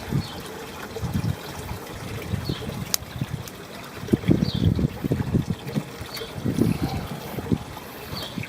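Water flowing through an aquaponics system in a spring garden, a steady low trickle and gurgle heard close by, with soft irregular splashes and no talk.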